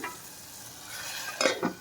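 Dal tempering stirred in a hot pan, a soft steady sizzle under the scrape of a spoon, ending in two brief louder clinks.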